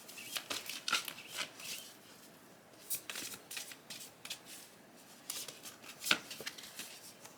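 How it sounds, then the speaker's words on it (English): Tarot cards being shuffled by hand in a quiet room: repeated crisp riffling and snapping bursts of card stock, close and fairly soft, coming in irregular rounds with short pauses between them. "I'm going to start shuffling."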